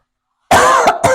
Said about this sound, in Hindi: ज़रा क्लाइमेट चेंज होता है तो ये खांसियाँ शुरू हो जाती हैं।